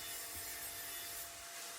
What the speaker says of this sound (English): flip her over and trim off the other side